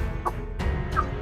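Aseel hen clucking close by, three short sharp clucks spaced evenly across a second with steady low background hum.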